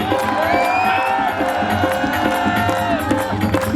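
Crowd cheers and claps at a Shree Shyam devotional vandana gathering in Santokhgarh, a dense, loud, steady roar of voices and hands lasting throughout, with tonal voices mixed in.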